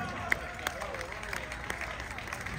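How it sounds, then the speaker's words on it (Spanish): Crowd applause for the moderator at a Peruvian flag-raising event in Paterson, a thin, moderately distant clapping with people talking and voices over it. "Un aplauso para el moderador."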